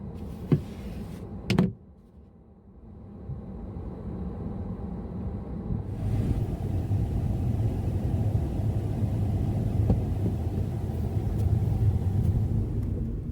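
A car packed with paintings drives through snowfall toward Kauhajoki: a couple of sharp knocks at the start, then a steady low engine and road rumble that grows slightly louder and continues throughout.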